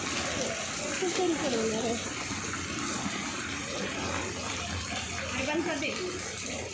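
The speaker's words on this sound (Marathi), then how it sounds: "पाऊस आलेला आहे बघा" Heavy rain water rushing into a rising gutter, a steady broad wash of flowing water throughout, with voices faintly heard beneath it.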